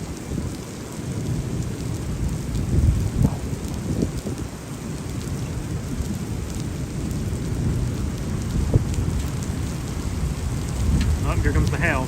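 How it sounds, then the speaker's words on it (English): Rain and small hail drum steadily on a storm-chasing vehicle during a tornado-producing thunderstorm near Juneau, Wisconsin, with a dense, loud roar and scattered sharper ticks throughout. "Oh, here comes the hail."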